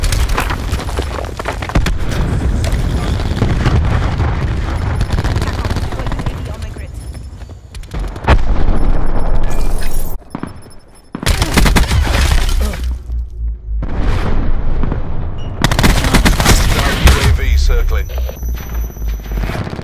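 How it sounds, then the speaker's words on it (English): Dense gunfire and explosions from a Call of Duty: Black Ops 4 multiplayer match on the Morocco map, loud and continuous, with bursts of shots, blasts and shattering impacts and brief lulls between heavy volleys; a game voice speaks over the action. "Hostile Hellstorm inbound. Cluster grenade going in."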